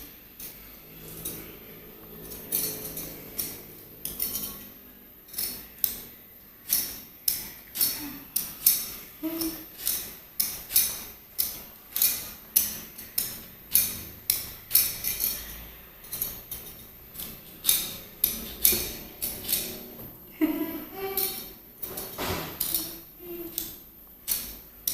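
A knife works through chayote with a long run of regular sharp clicking cuts, close and crisp, each stroke followed by a short pause, with no talking over it.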